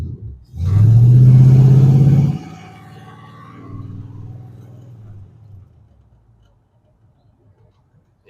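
An old, long-abandoned Pontiac car stuck in first gear, its engine revving in a loud, strained burst before dropping to a lower, fading rumble as it rolls along, then falling nearly silent.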